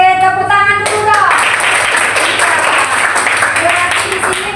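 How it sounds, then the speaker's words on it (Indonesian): A class of children in a school lesson claps their hands, a dense burst of clapping that starts after a brief voice and continues steadily to the end. "Tepuk tangan dulu dong."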